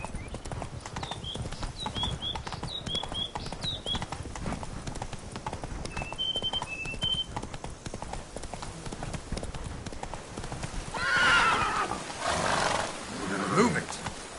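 A horse gallops in The Witcher 3 video game, its hooves clip-clopping in a steady, continuous rhythm close by, with birds chirping faintly over it and a louder rushing burst toward the end.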